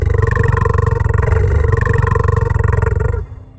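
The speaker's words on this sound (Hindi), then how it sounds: "तभी अचानक सामने से भारी दहाड़ सुनाई दी।" A heavy roar from a black lion in an animated animal story, loud and close, rumbling continuously with a throbbing pulse before cutting off abruptly near the end.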